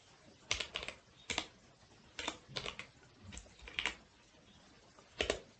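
Python code is typed on a computer keyboard in short bursts of quiet key clicks separated by pauses, close but soft, with no talking.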